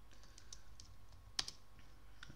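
Someone types on a computer keyboard while working in a Python interactive shell, a few faint, scattered key clicks with one sharper tap, quiet and close.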